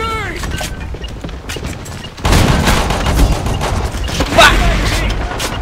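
A grenade blast and heavy gunfire in a loud shooter video game: sudden broadband explosion partway through, followed by sustained rattling fire and another sharp burst, with scattered game voices underneath.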